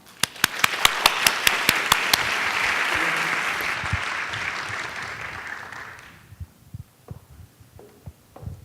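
Applause from a conference audience welcoming a panel on adoption, opening with a few sharp single claps that swell into full steady clapping, then fade after about six seconds into scattered thumps and faint noises.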